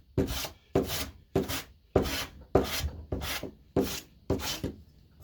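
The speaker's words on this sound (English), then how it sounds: "Just keep shaving away at it." Eight evenly spaced rasping strokes as a wooden guitar headstock veneer about 3 mm thick is shaved down by hand, each stroke a short, close, scratchy swipe followed by a brief pause.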